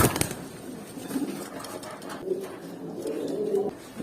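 A pigeon pair cooing nearby in a loft, soft repeated throaty coos rising and falling over a low background hum, with a sharp knock at the start.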